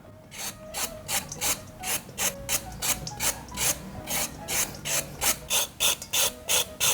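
Green papaya shredded with a hand scraper, giving a steady run of sharp rasping strokes in a regular rhythm, close and loud, with no voices.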